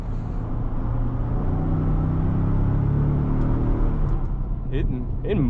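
A 2023 Ford F-150 Tremor pickup with a 10-speed transmission accelerates from inside the cab, giving a steady, loud engine drone that climbs in pitch, with a few brief higher sounds near the end.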